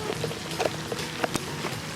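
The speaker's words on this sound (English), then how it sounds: "I'm starting to feel drizzles" Light drizzle beginning outdoors near a pond, a soft steady patter of raindrops on surfaces with a few sharper drops standing out, close and fairly quiet.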